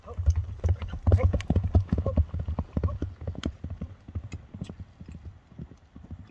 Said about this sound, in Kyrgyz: Ат мынандай чуркайт экен, же болбосо катуу экен, акырын экен дегенде.